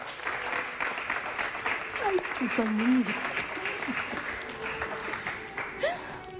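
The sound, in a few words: studio audience applause on a TV show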